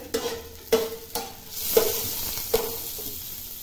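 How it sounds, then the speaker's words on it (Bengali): Chopped onions sizzle and hiss in a hot stainless steel pan while a spatula scrapes and taps the metal in a loose, irregular rhythm. "আমার পেঁয়াজ মানে ফোড়ন ভাজা হয়ে গেছে"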